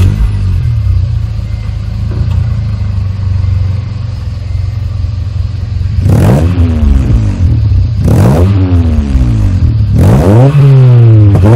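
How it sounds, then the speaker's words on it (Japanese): A Honda Integra Type R DC2 idles with a deep, steady exhaust burble from its aftermarket muffler, then three sharp revs rise and fall in quick succession, loud and close to the tailpipe with no talk. "じゃあマフラーの音いきます。"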